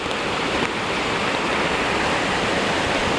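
A mountain stream at Jatashankar Mahadev rushes in heavy rain, giving a loud, steady broadband roar of water that continues unbroken from start to finish with no voices.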